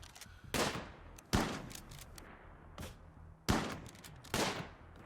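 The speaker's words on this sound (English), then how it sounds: "You shoot that person, please. And shoot that person." Colonists firing on raiders in the game Rimworld: four or five separate sharp gunshot bursts spaced irregularly, moderately loud against a quiet background, with no talking.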